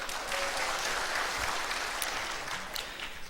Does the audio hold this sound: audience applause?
yes